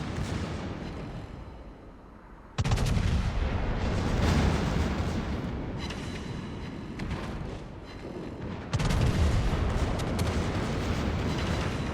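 Naval secondary guns on a battleship fire at the destroyer Farragut in World of Warships, in a dense run of rumbling booms and cracks with bursts of blasts that begin about a third of the way in and swell again near the end.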